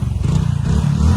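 A motorcycle engine runs steadily, a loud, close, low rumbling drone with a slight rough pulsing texture and no pauses.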